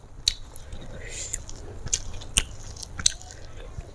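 Biting and chewing tuna fish from a spicy balado dish served with rice: a few close, wet bites and soft mouth sounds at irregular intervals, with faint whispery breaths in between.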